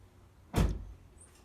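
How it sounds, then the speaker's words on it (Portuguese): A Jeep Renegade car door opens with one short, sharp clunk of the latch, close by and fairly loud, fading quickly into quiet. "Abre a outra porta lá de novo."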